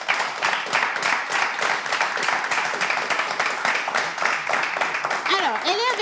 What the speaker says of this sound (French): Je vais vous demander, s'il vous plaît, d'applaudir notre invitée.